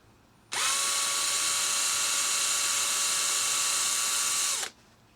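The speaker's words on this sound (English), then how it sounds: "Drill out to the next size." A power drill spins at high speed while enlarging a hole in a solar panel, a loud steady whine starting abruptly and stopping after about four seconds, with quiet before and after.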